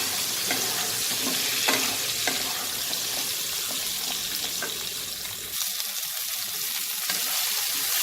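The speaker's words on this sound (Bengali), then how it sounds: "পটলগুলো আমি লাল করে একটু ভাজবো।" Pointed gourd pieces fry in hot oil in a pan, giving a steady, close sizzle with soft stirring scrapes throughout.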